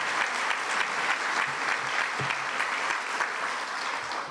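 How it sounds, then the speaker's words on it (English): An audience claps steadily, a dense, loud, continuous round of applause. "let's give this group a round of applause"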